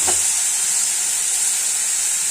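Ginger, garlic, onion and tomato paste sizzles in a hot pan with a steady, loud, close hiss that runs throughout, opening with a brief soft clunk.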